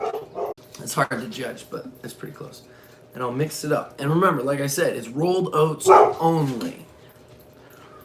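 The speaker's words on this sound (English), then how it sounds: "Don't worry, that's my dog." A pet dog barks and whimpers intermittently in the background of a kitchen while a person talks through preparing a breakfast of rolled oats, the yelps mostly buried under the speech.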